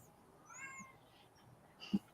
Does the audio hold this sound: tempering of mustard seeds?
no